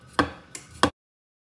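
Fresh ginger grated down the edge of a kitchen knife on a cutting board: three sharp, close scraping strokes, the first and last loudest, then silence.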